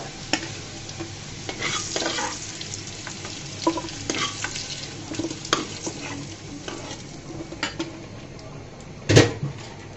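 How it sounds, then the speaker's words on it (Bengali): Potato pieces fry until reddish-brown in hot oil, a continuous sizzle punctuated by spatula scrapes and clinks against the pan, ending with one louder knock. "আলুটা কিন্তু আমার লাল লাল করে ভাজা হয়ে গিয়েছে"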